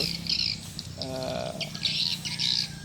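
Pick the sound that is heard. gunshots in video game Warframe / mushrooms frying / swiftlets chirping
swiftlets chirping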